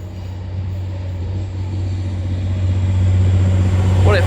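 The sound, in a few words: TransPennine Express train departing York station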